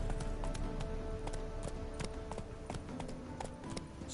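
A horse gallops in The Witcher 3, with steady rhythmic hoofbeats over a constant ambient wash and no voices during the run.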